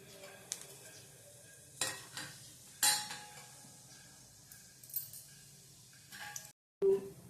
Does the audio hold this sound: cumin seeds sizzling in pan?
yes